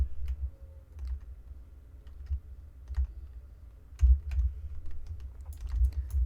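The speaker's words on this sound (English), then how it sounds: "I know if my keyboard's quite loud for people" Keys clatter on a computer keyboard in quick, uneven bursts of clicks, close by with quiet pauses between flurries.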